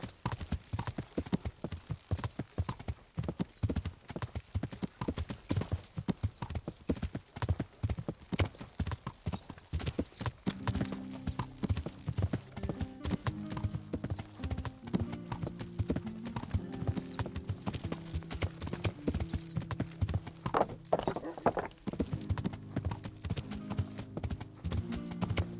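Horse hooves clip-clop steadily and loudly through the whole stretch in the medieval game Kingdom Come: Deliverance, with a musical score rising underneath from midway.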